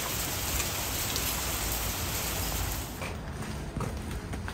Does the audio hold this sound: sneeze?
no